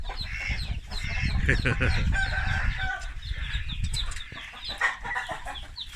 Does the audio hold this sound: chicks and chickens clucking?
yes